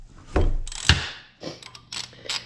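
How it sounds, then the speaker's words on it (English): A ratchet fitted with a deep socket clicks through bursts of rapid pawl ratcheting while turning bolts on a Ford Fiesta engine, close up and loud, with short pauses between strokes. "So I use a deep socket."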